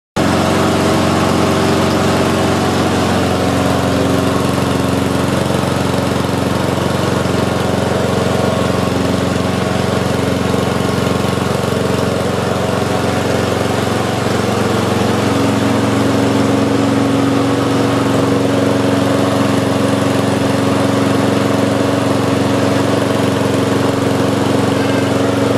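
A 2020 Riwall Pro RPM 5390i lawn mower with a clogged carburetor jet runs steadily after being restarted, its small engine droning loudly and evenly close by without a break.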